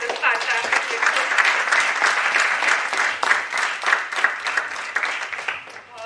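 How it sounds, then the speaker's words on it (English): An audience claps after a panel lecture on mandatory sharing and competition measures, a lively round of applause that swells and fades unevenly, close and fairly loud, with some voices mixed in. "Let's give a huge round of applause for this fantastic lecture."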